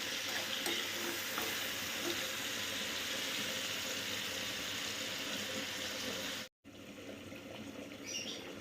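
Tomato and garlic frying in a pan: a dense, steady sizzle and bubbling close by, cut off abruptly for a moment and then resuming slightly quieter.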